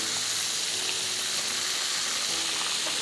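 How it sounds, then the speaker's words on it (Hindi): Fish frying in hot oil, a Kajun-style fried fish, gives off a steady, dense sizzle that holds at an even level throughout with no voices. "जब तक ये फ्राई हो रहे हैं"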